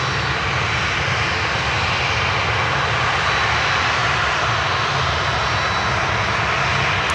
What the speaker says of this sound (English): these CF6s, they produce quite some noise